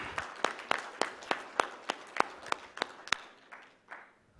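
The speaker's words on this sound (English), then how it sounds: "we must give all of you a big round of applause" A short burst of sparse clapping at an awards ceremony, a dozen or so distinct hand claps spaced irregularly, fading out toward the end.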